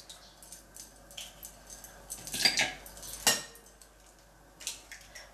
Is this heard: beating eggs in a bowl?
yes